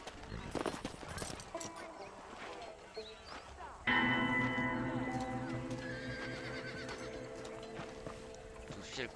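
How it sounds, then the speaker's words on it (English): Horse hooves clip-clopping alongside whinnies and neighs in the Red Dead Redemption video game, with a busy layered game soundscape that jumps louder partway through and some voice in the mix. "ya tenemos un nuevo caballo"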